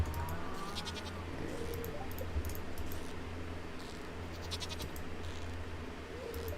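Goats bleat faintly in Stardew Valley, with a few thin, scattered calls sitting over a steady background of game ambience and music.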